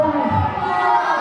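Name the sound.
wrestling crowd chanting boring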